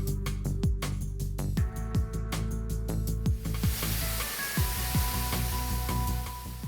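Loud, steady rushing hiss of a container ship's water hose spraying, continuous throughout, with repeated deep engine-like sweeps and a droning hum underneath.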